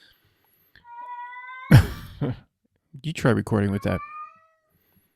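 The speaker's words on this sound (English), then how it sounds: "That's the cat, guys." A cat meows close by, one drawn-out cry followed by a person speaking briefly, with the cat's call overlapping the voice near the end.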